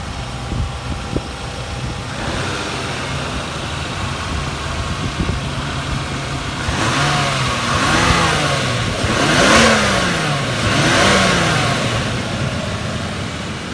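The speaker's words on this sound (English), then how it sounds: "just the general sound of the R34" Nissan Skyline R34 25GT-t with a pod air filter, idling steadily up close, then revved several times in quick succession, each blip rising and falling over the low engine rumble, no voices.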